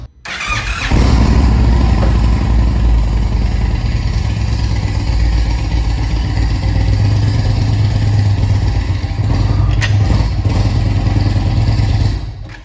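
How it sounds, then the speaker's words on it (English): Indian touring motorcycle rolling into a transport wheel lock, its engine running loud and close with a steady low rumble and a brief clank near the end. "I'm going to go ahead and get on the bike and just ride on into the locking mechanism"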